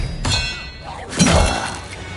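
Expelliarmus spell effect in Hogwarts Legacy, with two sharp magical impacts about a second apart, each a cracking, shattering burst with a thudding low tail, fairly loud and close.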